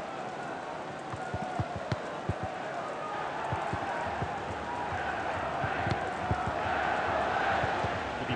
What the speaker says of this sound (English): the crowd are well behind their team now they've got their goal